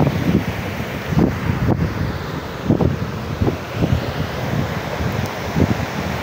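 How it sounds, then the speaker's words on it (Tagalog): Strong typhoon winds (Typhoon Uwan) roar steadily along the shore, with surf crashing in repeated rhythmic surges about every second under the constant gusting rush. "alon, lakas ng hangin."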